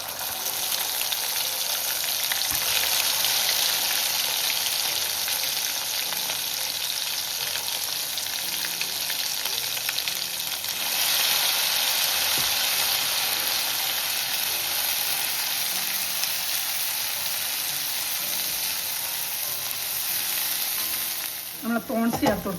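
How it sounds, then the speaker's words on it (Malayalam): Masala sautéing in a pan over a low flame for a prawn curry, a steady soft sizzle and crackle running continuously with occasional stirring scrapes, ending in a few sharper clatters. "ഇനി ഈ മസാല ഇട്ടൊന്ന് വഴറ്റണം"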